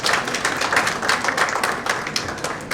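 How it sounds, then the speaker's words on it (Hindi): An audience at an art exhibition event in Indore claps together for a few seconds to welcome a minister, a dense, moderately soft patter of applause with no talk over it. "जरा तालियां बजाकर उनका भी स्वागत करें।"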